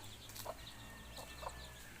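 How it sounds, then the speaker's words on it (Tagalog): A few soft, low clucks from mother hens with chicks, faint and somewhat distant against a steady outdoor background. "ayan yung dalawang inahin na may sisiw"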